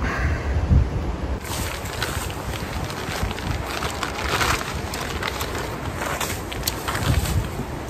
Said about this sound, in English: it's quite a windy day today, so I've got my foot on it to stop it blowing away